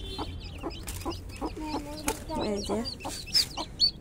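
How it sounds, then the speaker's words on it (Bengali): A hen clucks close by among her small chicks, whose high, thin peeps come in repeated bursts while people talk nearby as the birds are fed carrots. "এই মুরগি গাজর খাবে?"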